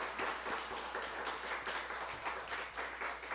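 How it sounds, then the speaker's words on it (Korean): Church congregation at a Sunday worship service clapping together in blessing, a steady, moderately quiet round of applause filling the hall with no voices over it. "우리 박수로"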